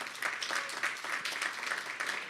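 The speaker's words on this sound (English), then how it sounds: "Let's give her a round of applause." Audience applause for a speaker at a community talk event, a fairly quiet, distant round of clapping that rises and falls briefly.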